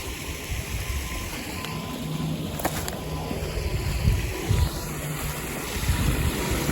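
A forest stream flows steadily beside a woodland path in February, giving a continuous close rush of water with some wind buffeting the microphone.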